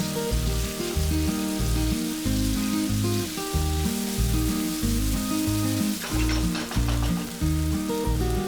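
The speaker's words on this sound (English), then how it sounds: "add 3 onions sliced and fry it until the onion is nice and soft" Three sliced onions fry in hot oil in a pan, giving a steady, dense sizzle that runs on without pause, close up, with an underlying rhythmic patter throughout.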